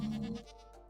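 A goat in the Minecraft video game gives one short, quiet, wavering bleat that fades out quickly.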